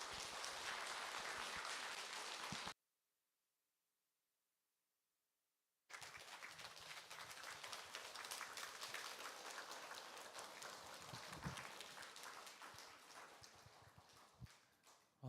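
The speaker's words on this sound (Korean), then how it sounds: "박수로 환영하도록 하겠습니다" An audience in Yanglim Church in Gwangju applauds to welcome a professor to the lectern for the fourth lecture of a Wednesday Bible study series. The clapping is dense and steady, breaks off into a silent gap, then resumes at length.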